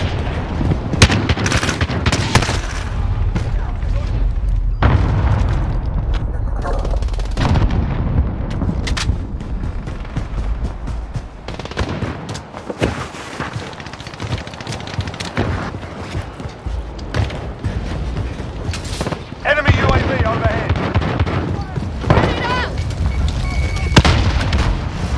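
Heavy gunfire and booming grenade explosions fill a Modern Warfare multiplayer battle, with dense continuous firing, repeated loud blasts and occasional faint voice callouts throughout.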